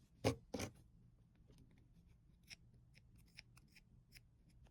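Two quick, crisp snips of scissors cutting fabric up close, followed by quieter scattered rustles and small snipping ticks.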